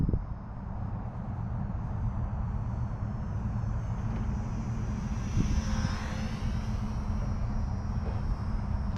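A small Eachine Mini T-28 RC model airplane flies on a windy day, its propeller motor droning continuously at a fairly steady pitch, with a faint rising whine as it passes through the air.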